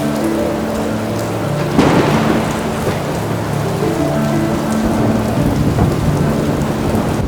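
Heavy rain pours down steadily during the Chennai flood, a dense, loud hiss on surfaces with thunder rumbling through it and a sharp crack of thunder nearby.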